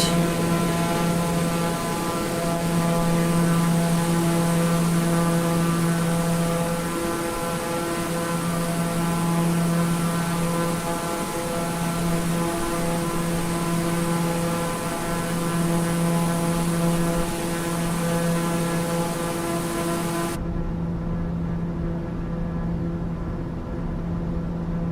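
A steady, droning propeller airplane engine heard from inside the cabin in flight, loud and constant with a strong hum, with no voices.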